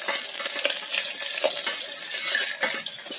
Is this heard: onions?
yes